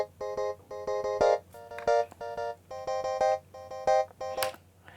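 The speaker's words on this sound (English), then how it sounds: "And we have this track, which is like a clean electric guitar" A clean electric guitar with no amp plays an arpeggiated pattern in Logic Pro, with bright repeated staccato notes in quick rhythmic bursts, thin and close, alone without voices.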